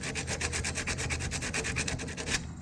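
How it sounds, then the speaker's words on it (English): Fine sandpaper rubs back and forth in quick, even strokes over a Ford Model T starter motor contact, a soft rhythmic scratching heard close and alone. "just to gently rough up that contact"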